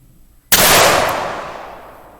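A single loud, close gunshot as a 165 grain Hornady bullet is fired into stacked leather, a sharp crack followed by a long, decaying rumble over about a second and a half, with no talking.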